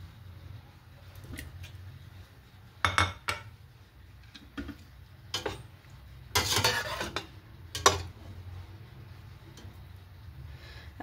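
Unfried boiled eggs go into a pot of curry (salan) in a home kitchen, giving scattered clinks of a spoon against the pot, soft plops and stirring, each sound short and separate against a quiet background.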